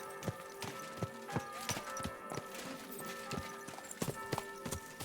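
A horse's hooves clip-clop in a steady walking rhythm in the video game Kingdom Come Deliverance 2, as a clear series of close, sharp knocks.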